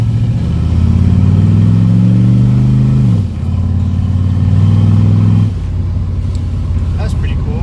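A new car's engine pulls hard in second gear, a loud steady revving drone that climbs, dips briefly and then holds before easing off near the end.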